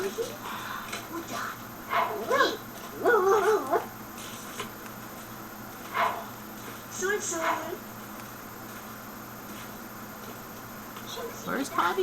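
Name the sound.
puppy barking and whimpering in The Sims 2 video game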